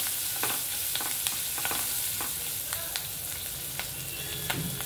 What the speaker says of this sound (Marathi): आता ह्याच्यामध्ये आपण चिरलेली मिरची टाकतोय, कढीपत्ता टाकलेला आहे, हा मसाला आपल्याला परतून घ्यायचा आहे छानपैकी